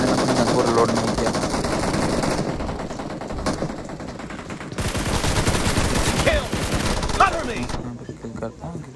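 Automatic gunfire in the mobile game Battlegrounds Mobile India, rapid bursts of shots in loud stretches separated by quieter gaps, with a voice talking over parts of it.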